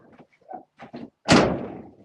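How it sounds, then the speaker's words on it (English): A door at a pigeon racing loft slams shut with a single loud, close thud and a short decaying rumble, following a few faint, muffled sounds. "just close that door"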